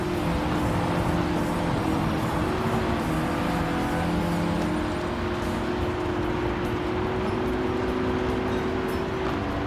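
Race cars in Gran Turismo 7 roaring past in a group, a dense, steady engine drone with layered shifting tones, loud and continuous throughout with no voices.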